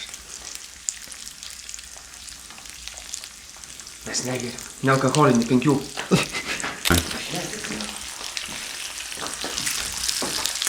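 Food frying in a hot pan, a continuous close crackling sizzle that runs throughout, with people talking over it in the middle.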